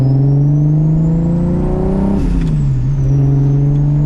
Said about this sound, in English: Idle is doing weird things right now, you can see it, because that throttle blade is sticking